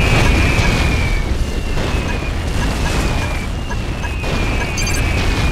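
Bombing explosions from airships in Yuri's Revenge (Red Alert 2) on the Zedona Pass map, a dense, continuous roar of overlapping booms and crashes, loud and sustained throughout with faint high tones above.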